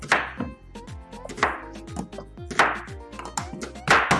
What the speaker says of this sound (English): I'm trying to cut these onions as fast as I can